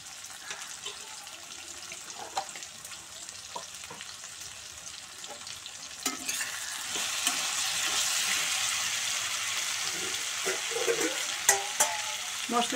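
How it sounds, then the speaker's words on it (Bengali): Ginger paste, chilli powder and spices for a vegetarian cabbage ghonto stirred and fried in a pan with a little water, a steady soft sizzle that swells midway, broken by scattered clinks and scrapes of a spoon. "মশলাটা নাড়াচাড়া করে ভাজার জন্য একটু জল দিলাম"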